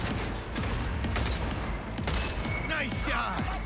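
Gunfire in Cyberpunk 2077, a burst of sharp shots and a dense rattling volley over a steady rumble of game sound, loud and close, with a few bright synthetic chirps near the end.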